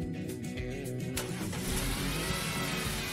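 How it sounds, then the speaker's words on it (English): Car engine cranking and catching during an air-conditioning compressor service, a short starter whir followed by the engine firing and settling into a steady, close idle hum. "Now you can start the engine."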